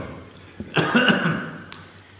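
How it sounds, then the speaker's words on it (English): A single harsh cough, followed by a brief rough throat sound, close to the microphone in an otherwise quiet room. "excuse the cough"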